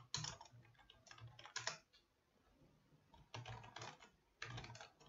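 Code is typed on a computer keyboard in quick, close bursts of clicky keystrokes, separated by short pauses, at a low level with no talking.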